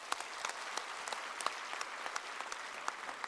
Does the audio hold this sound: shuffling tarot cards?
no